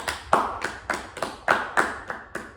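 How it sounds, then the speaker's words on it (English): Sharp, separate hand claps, about nine in all, fall in a loose, uneven rhythm, close and fairly quiet, like one person or a small group clapping on a talk show. "can we have a big round of applause for Miguel Almiron, please?"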